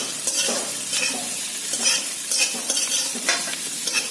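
Dried chillies, a pinch of hing and spices frying in a pan with a steady low sizzle, broken by several scrapes and stirs of a utensil against the pan, close and without voices.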